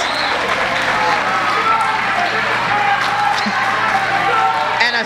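A wrestling crowd in the LCW arena chants and cheers for Sudden Impact, a dense, continuous roar of many voices filling the whole stretch at high level, with a commentator talking over it.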